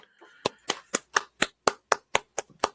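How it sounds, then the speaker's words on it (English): About ten crisp hand claps at a steady, even pace, close and distinct, with a faint murmur before the first clap. "Oh, he was clapping."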